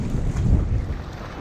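Strong wind gusting in a harbour beside a docked Hallberg-Rassy 54 sailboat, a low buffeting rumble against the microphone, loud and continuous through the short stretch.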